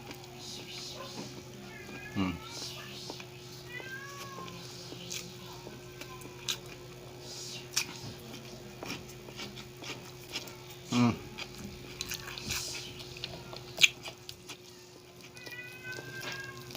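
A cat in a rural provincial home meows several times, short faint cries spread apart over a steady low hum and quiet background noise.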